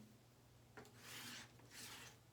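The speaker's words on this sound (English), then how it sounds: "the sound of the razor itself going over the strop" A straight razor rasps twice across an English bridle leather strop in quick, smooth strokes, soft and close, over a faint low background hum.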